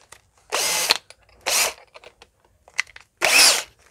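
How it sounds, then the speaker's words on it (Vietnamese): A used National EZT103 cordless drill with a 10 mm chuck runs in three short whirring bursts of about half a second each, close and loud. Faint clicks and rattles fill the gaps between bursts, and no one speaks. "khoan thử cho anh em xem nha"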